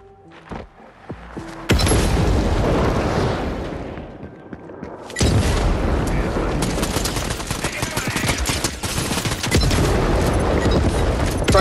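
Explosives blowing up an enemy in Fortnite, two sudden loud blasts followed by sustained crackling bursts and heavy thumps, with voices talking faintly underneath.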